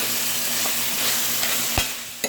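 A spoon stirring tortellini in a pot with ground pork, a soft continuous bubbling sizzle underneath and a few light scrapes and clinks, one sharper knock near the end.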